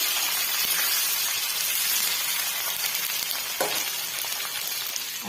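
Onions sizzling and frying in hot oil in a pan, a continuous crackling hiss with a brief stir or scrape partway through, no voices.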